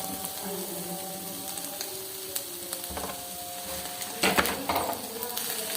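Ketchup and mayonnaise being stirred into chicken frying in a pan on a village stove, a steady sizzle with soft scraping and occasional utensil clinks against the pan, close and fairly quiet.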